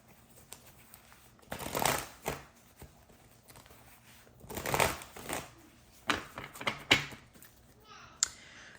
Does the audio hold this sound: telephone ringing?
no